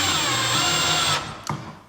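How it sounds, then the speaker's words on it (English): A power drill whirs steadily as it drives screws into an electrical box, running loud and close for over a second before winding down, followed by a brief clack. "I usually use a drill at this point because I'm lazy."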